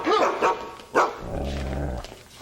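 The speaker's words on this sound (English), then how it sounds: "His name is Diefenbaker. He's half wolf." A half-wolf dog barks sharply a few times and then lets out a low, sustained growl, close and loud, in a television drama scene.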